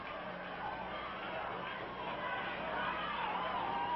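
Crowd noise fills a wrestling arena during a Buddy Rose versus Lonnie Mayne match: a steady, distant babble of many voices that swells slightly toward the end, with no single voice standing out.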